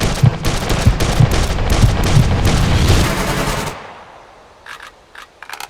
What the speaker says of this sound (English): The second example shows how well a character can control the recoil of the rifle